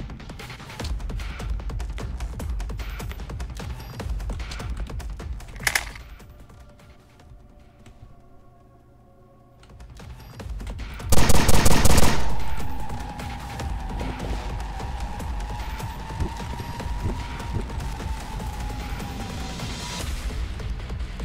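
A Quake 4 super shotgun lets off one heavy, booming blast that rumbles for about a second, set among busy game sounds, a quieter lull and a droning tone afterward.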